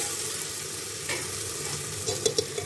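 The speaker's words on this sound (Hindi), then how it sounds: "अब इसको थोड़ा सा और मैं फ्राई होने दूंगी" Masala for Punjabi-style rajma frying in a pan while being stirred, giving a soft steady sizzle with a few sharper scrapes and clinks of the spoon near the end.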